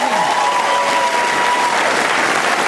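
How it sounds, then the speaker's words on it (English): Studio audience applause on a music panel quiz show, a loud, continuous wash of clapping that holds evenly throughout with a faint tone running beneath. "Yes, applause"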